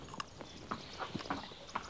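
Hooves clip-clop at an easy walking pace, several distinct knocks close by and fairly quiet, with no talking.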